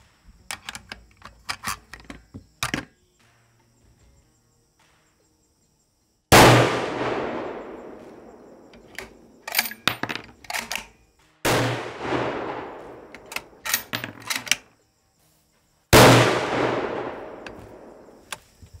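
A magazine-fed .308 rifle fires three rounds outdoors, each a loud, sharp report followed by a long rolling echo, several seconds apart, after some faint handling clicks.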